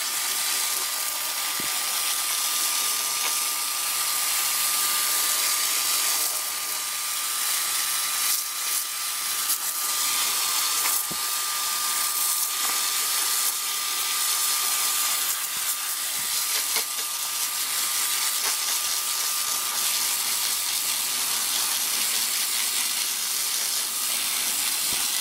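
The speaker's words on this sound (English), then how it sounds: "And hit it with the hose." Garden hose spraying water onto a Ruud condensing unit during cleaning, a loud, steady hissing spray that runs continuously with small shifts as the stream moves across the coil.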